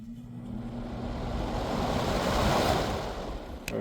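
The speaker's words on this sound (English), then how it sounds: "Let's try to catch a motor startup, shall we?" A Vornado CR1-0029 air circulator fan, once locked up, starts its motor with a low hum and a rushing whoosh of air that builds steadily to a broad roar, close to the microphone, ending with a brief click.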